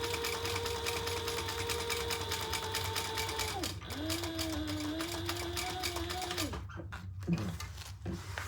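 A sewing machine stitching a second line on a bag, its motor whirring in a steady, fast, close hum that pauses and restarts partway through, then stops near the end with a few handling knocks.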